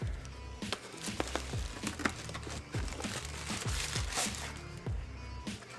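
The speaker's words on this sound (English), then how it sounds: "lifting up that lid, removing that wrapping paper" Paper wrapping pulled out of a New Balance 550 sneaker box, a steady run of close crinkling and rustling with sharper crackles scattered across the whole stretch, no talk over it.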